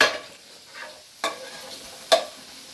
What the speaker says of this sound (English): that's our herbs all in there. And that's going to sizzle away. Give that a nice stir.